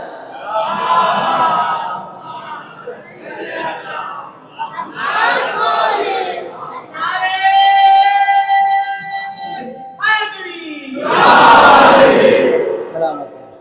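A large crowd shouts a religious salawat chant together in loud, rhythmic unison at a religious celebration, with a lead voice calling out between the group responses.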